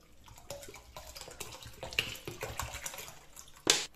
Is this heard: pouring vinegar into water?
yes